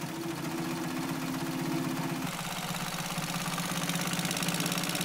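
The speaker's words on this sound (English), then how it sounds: "And I'm sewing." Home sewing machine running steadily while zigzag-stitching a basket, a continuous mid-pitched mechanical whir with a faint hum that shifts slightly partway through, close and alone.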